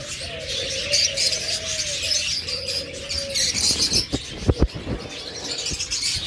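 A pair of pet lovebirds chirp in a cage, a male below and a female above, giving soft repeated tweets and whistled calls over faint background noise.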